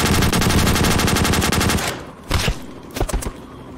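Rapid automatic gunfire from a war video game rattles loudly and continuously for about two seconds, then gives way to a few separate single shots and short bursts against a quieter background.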